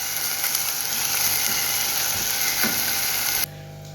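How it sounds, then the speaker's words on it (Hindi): Onions fry in hot oil in a karahi for beef keema, a steady dense sizzle with faint crackles, close and even, ending abruptly, no talk. "तो सबसे पहले मैं प्याज को लाइट ब्राउन करूँगी।"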